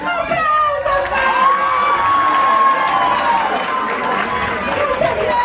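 A children's audience at a circus theatre celebration cheers, shouts and claps for Sofi, a loud, steady crowd roar with excited young voices lasting throughout.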